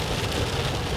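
Heavy rain drums steadily on a moving car in Toronto during a student driving lesson, a dense continuous wash of loud, close patter over low road rumble, with no voices.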